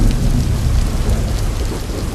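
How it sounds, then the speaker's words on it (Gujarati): Heavy, continuous rain pours steadily during a prolonged downpour in Gujarat, a dense, loud wash of noise with a low rumble underneath and no voices. "રાત્રેથી સતત પડતા વરસાદથી હાઈવે પર પણ પાણી ભરાયા હતા"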